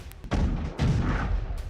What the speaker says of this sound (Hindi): ये रूसी तोपखाना है।